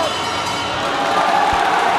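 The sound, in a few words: crowd applauding and cheering at boxing match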